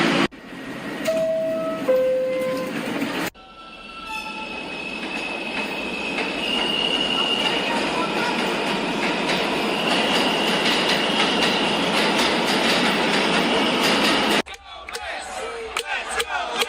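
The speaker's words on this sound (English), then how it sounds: "This is a Mets Willits Point bound 7 local train." A New York subway 7 local train departs Mets Willets Point: a loud, steady rumble of wheels on rail with squealing, after a short chime and announcement tones, heard close up from on board before cutting off.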